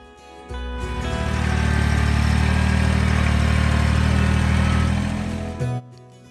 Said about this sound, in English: Today, we are using our Kubota tractor and our Grapple.